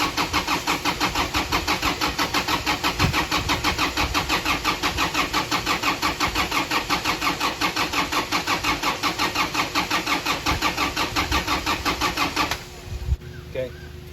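A Kubota Ranger utility vehicle engine, just fitted with a new head and intercooler, cranks over with a fast, even, pulsing chug for about twelve seconds before the cranking stops, loud and close.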